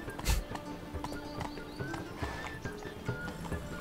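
Steady clip-clop of horse hooves trots along in an even rhythm in The Witcher 3: Wild Hunt, layered with game ambience and a faint whinny near the start.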